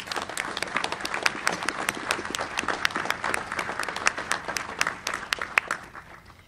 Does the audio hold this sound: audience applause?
yes